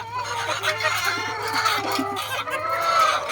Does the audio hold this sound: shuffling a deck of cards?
no